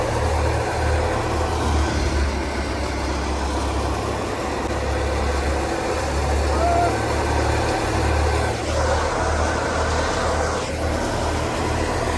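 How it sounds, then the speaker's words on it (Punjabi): A stationary tractor with a machine attached idles nearby, producing a steady, low, throbbing engine drone that holds throughout with slight fluctuations. "ਅੱਗੇ ਮਸ਼ੀਨ ਲੱਗੀ ਹੋਈ ਹੈ ਟਰੈਕਟਰ ਖੜਾ"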